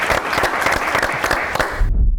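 Audience applause at a televised Ethiopian talent competition, a dense patter of clapping that fills the clip at a steady level before fading to a low rumble in the last moments.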